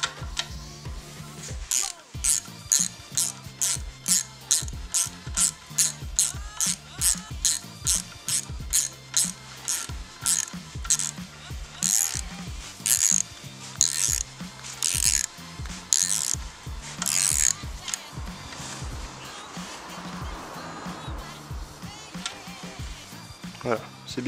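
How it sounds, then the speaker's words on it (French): Rapid ratcheting clicks from a small 10 mm wrench tightening little valve cover (rocker cover) screws on an engine, repeated in steady bursts of close, crisp ticks with a brief pause near the end. "installer ces petites vis, donc qu'on va visser tout simplement avec une petite clé de 10"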